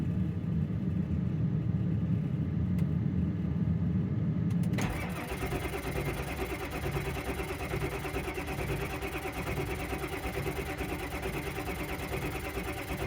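Ford F-350 truck engine cranking with a rapid starter whir for several seconds, then catching and settling into a steady, loud idle rumble that runs to the end.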